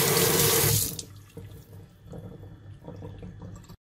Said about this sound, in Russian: Вода пошла.